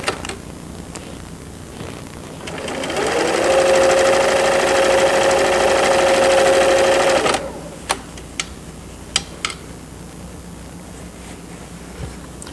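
A home sewing machine runs steadily for about four seconds, stitching down a trouser waistband, then stops, followed by a few faint clicks and handling sounds.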